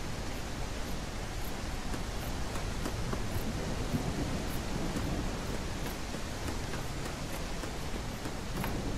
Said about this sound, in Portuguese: Bota um botão aí pra ou diminuir o som da chuva ou tirar a chuva do jogo